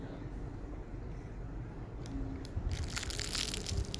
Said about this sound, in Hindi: ये क्रंची क्रंची पकौड़ियों की आवाज़ सुनिए आप पहले